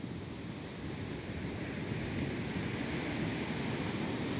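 Strong ocean waves surge and wash continuously onto Ngobaran beach in Gunung Kidul, Yogyakarta, a loud, steady roar of surf mixed with wind buffeting the microphone, with no voices.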